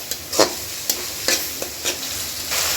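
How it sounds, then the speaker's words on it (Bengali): Ginger garlic paste frying in a little oil, a soft sizzle broken by several sharp spoon scrapes and stirring clicks against the pan, close up with no voices. "আদা রসুন বাটা, একটু তেলে ভেজে নিই, কাঁচা গন্ধটা চলে যাক।"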